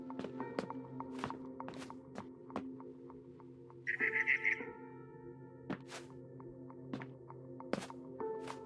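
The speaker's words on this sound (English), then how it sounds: "Then I heard chirping outside my window." A barn swallow chirps outside a bedroom window in the game What Remains of Edith Finch, one brief bright twittering burst over soft tapping footsteps and a low steady ambient drone.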